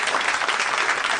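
Audience at a live comedy podcast taping claps in a steady, dense burst of applause, loud and close, with no talk over it.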